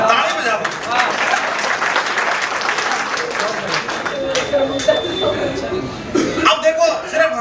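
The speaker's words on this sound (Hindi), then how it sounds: "ताली बजा दो।" Clapping from the audience at a Hindi kavi sammelan poetry gathering, a loud and steady round of applause with some chuckles and coughs mixed in, and a crowd murmur underneath.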